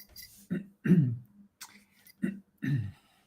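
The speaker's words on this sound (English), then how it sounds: "I have to cough." Several harsh coughs in a row, close and fairly loud, separated by brief pauses.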